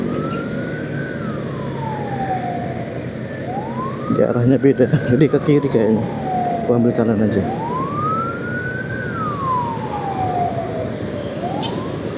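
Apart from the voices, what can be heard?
ambulance siren on a street in Semarang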